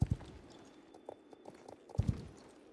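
A horse's hooves clip-clop on the ground while being ridden in the Star Stable game, a few soft close thuds in an uneven gait over a quiet background.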